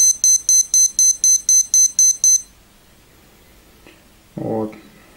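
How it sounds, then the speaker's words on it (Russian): A Timex Expedition T49851 wristwatch alarm beeps in about nine quick bursts, close and shrill, then stops; a short bump and a brief voice follow. "Очень удобный, классный будильник."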